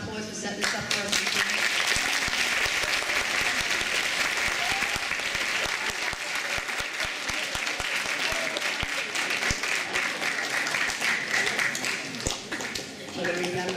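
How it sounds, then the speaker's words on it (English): A crowd applauds steadily for over ten seconds, dense clapping that fades slightly at the end. "a round of applause for setting this up for us"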